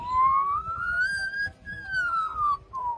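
An Australian magpie mimicking a human whistle, a smooth pure tone that rises, holds and slowly slides down, clear against faint background noise.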